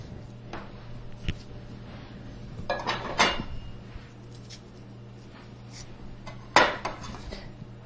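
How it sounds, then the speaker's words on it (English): A bench scraper cutting through tender gingerbread dough gives a few short scraping strokes, quiet and close, separated by stretches of low steady hum. "because the dough is so tender, you can actually use a bench scraper to cut it out"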